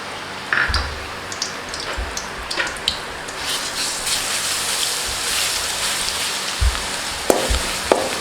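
Ginger and garlic fry in hot oil for a squid fry, making a continuous crackling sizzle with occasional soft knocks and stirring clatters from a spoon against the pan.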